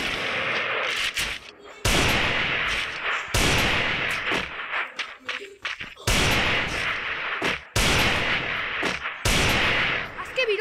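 Sniper gunfire in a video game, six or so sharp, loud shots spaced roughly evenly with decaying tails and brief gaps between them, and a voice faintly present.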